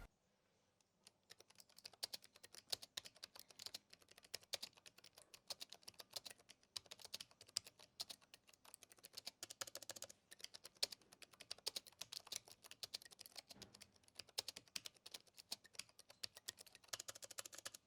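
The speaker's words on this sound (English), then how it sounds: "here's also just a sound test of these Omron mechanical switches" Steady clacking of Omron mechanical keyboard switches on an Aorus 17 laptop, fast irregular keystrokes continuing throughout, close and crisp with no voices.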